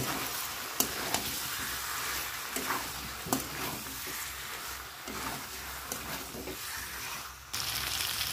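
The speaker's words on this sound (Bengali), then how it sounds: "এবার আমি ধনে পাতাগুলো দিয়ে দেবো, ভালো করে কষে নেব।" Chicken curry stir-fried in a pan with coriander leaves and potatoes, giving a steady broadband sizzle broken by several sharp scraping clicks of the spatula against the pan, close and alone with no talk.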